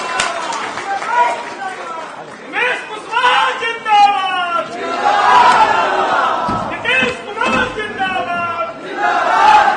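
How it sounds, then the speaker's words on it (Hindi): Crowd at a political rally in Bihar cheering and applauding a state party president's welcome, a loud, sustained wash of shouts and claps with bursts of chanting voices rising and falling throughout. "माननीय उमेश कुशवाहा जी, जोरदार तालियों से इनका स्वागत करें।"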